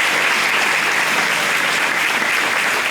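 Audience at a county fair queen contest applauding the contestants, a loud, continuous wash of many hands clapping throughout.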